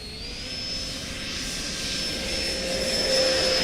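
A Dragon Hobby HSD 90mm Viper RC jet spools up for takeoff from grass, its electric ducted fan whining loudly and steadily as the pitch climbs and the roar builds close by.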